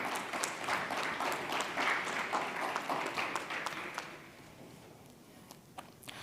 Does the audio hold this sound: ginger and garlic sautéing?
no